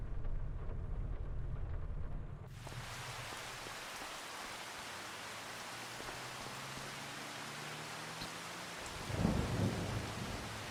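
Thunderstorm with rain in the Farming Simulator 25 game, a steady hiss of heavy rainfall over a deep rumble early on, then a continuous downpour with a louder roll of thunder near the end.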